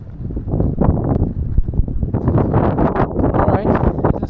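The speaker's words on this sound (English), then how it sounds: "Alright, it is kind of insane, the wind." Strong, gusty wind on Lanes Island roars steadily and close, rising in rough surges without letup, with no clear voices.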